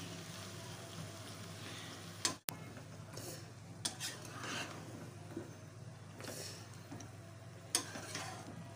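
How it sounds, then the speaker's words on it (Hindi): Spices being stirred into a pan of brinjal curry with the stems left on, utensil scrapes and clinks against the pot over a low steady hum, with one sharp knock early on. "अब हम मिक्स कर लेंगे सारे मसाले को इस सब्ज़ी के साथ।"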